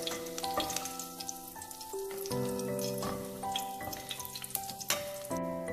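Green chilies sizzle in hot ghee with a steady, close crackle and spit of frying that runs throughout, under a layer of sustained tonal background music.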